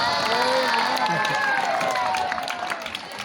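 Applause for Chetan sir at a gathering, an indoor crowd clapping and cheering loudly that tapers off slightly toward the end.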